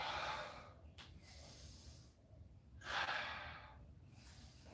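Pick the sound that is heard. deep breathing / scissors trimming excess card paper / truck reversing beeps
deep breathing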